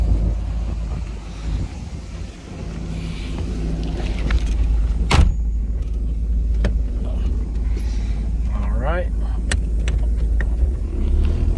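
A 1939 Buick Special sedan fitted with tuned port injection drives along, its low engine rumble steady under wind buffeting on the microphone, with a few sharp clicks and brief squeaks along the way.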